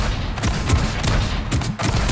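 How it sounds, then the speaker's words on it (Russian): Engine cylinder detonations in the Scrap Mechanic video game make a rapid, continuous crackle of loud explosive pops, like dense gunfire, close and unbroken. "это реально детонация в цилиндрах происходит"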